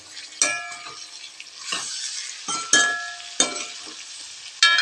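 Onions with ginger garlic paste being sautéed in a pan, a steady sizzle broken by repeated bursts of scraping and stirring with a spoon against the metal, close and clear.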